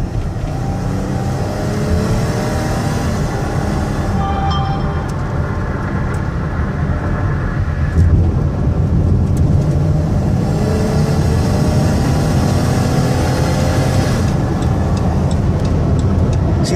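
A 2018 Dodge Caravan SE Plus wheelchair van runs and revs, a loud continuous engine rumble with road and wind noise that swells and eases as it accelerates, with no one talking.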